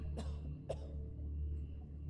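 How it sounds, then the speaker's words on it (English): A character coughs twice in ATOM RPG inside a forgotten Soviet bunker, two sharp close coughs over a low steady hum, then the hum continues alone. "That cough is getting worse."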